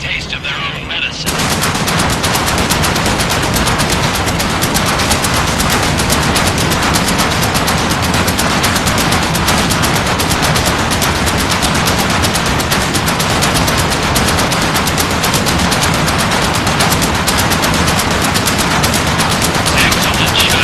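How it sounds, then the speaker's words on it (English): Rapid heavy gunfire from a flak cannon in a WWII video game, sustained bursts of dense loud cracks running continuously from just after the start to the end. "get on the flak cannon. Time to give the Luftwaffe a taste of their own medicine."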